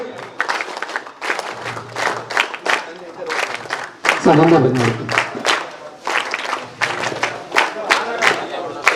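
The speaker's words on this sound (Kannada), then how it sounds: "ಕಂಟಿನ್ಯೂಸ್ ಚಪ್ಪಾಳೆಯಲ್ಲಿ" A crowd at a minister's birthday event in Mandya claps in repeated bursts, while someone talks over a loudspeaker between and over the applause.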